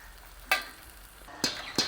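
Onions frying in a pan for a shark sambal, with sharp sizzling pops and stirring clatters: three distinct bursts over a low, steady hiss.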